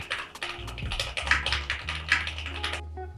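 Rapid, uneven keystrokes on a computer keyboard at a standing desk, close and fairly quiet, clicking in bursts with a soft low hum underneath.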